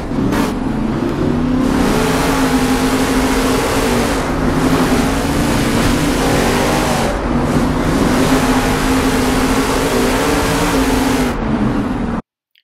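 Monster truck engines roar and rev continuously in a Monster Jam Steel Titans 2 race at Denver, a loud steady drone with rising and falling pitch as trucks accelerate, no talking over it.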